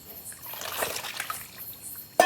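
Salt water used to wash fish is poured out, making a light trickling splash that runs steadily for a couple of seconds and ends in a sharper splatter.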